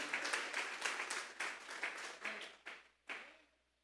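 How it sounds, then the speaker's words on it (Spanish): A church congregation at a Sunday afternoon service claps together in brisk, rhythmic bursts that thin out and fade over a few seconds, loud and close with no talking. "Denle esa ofrenda de palmas a Dios en esta hora."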